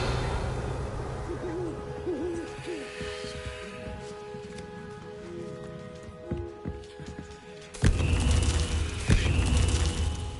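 In Hogwarts Legacy, a low owl hoot wavers through the quiet early ambience before a louder burst of game sound effects takes over near the end.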